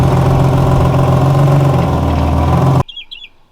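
Infiniti G37 engine running after sitting unused for a year, a loud steady idle drone close by that cuts off abruptly, leaving faint bird chirps outdoors.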